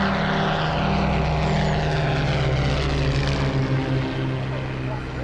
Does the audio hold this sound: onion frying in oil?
no